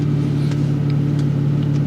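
A Porsche 911 997.1 Carrera S fitted with an aftermarket Fi exhaust idles after install, a steady, loud, low rumble holding close and even throughout.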